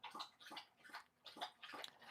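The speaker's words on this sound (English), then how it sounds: "He's going to drink the whole bowl." Dog lapping water from a bowl indoors, a quick rhythmic series of wet slurps and splashes in bursts, close and fairly quiet with no talk.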